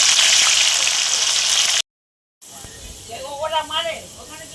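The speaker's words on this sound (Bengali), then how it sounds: "তো আমরা এইটুকু করে আলুগুলো ভেজে নেব।" Potatoes fry in hot oil in a pan with a loud, steady sizzle. After a brief silence, the hiss returns more quietly while a voice talks over it.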